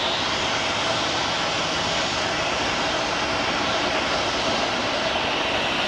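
A DHL cargo jet operated by ABX Air at Phoenix Sky Harbor International Airport makes a loud, continuous engine roar and whine that holds steady throughout, with no breaks and no voices.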